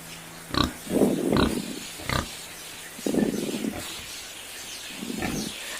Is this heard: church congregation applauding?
no